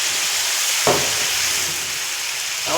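Food with sauce sizzling loudly in a pan, a steady bright hiss broken by two scraping stirs of the spatula, close and with no talk.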